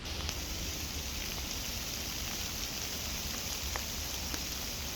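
Steady rain patters on leaves over a woodland survival shelter at night, a dense even hiss with scattered sharper drops close by, continuous throughout with no talking.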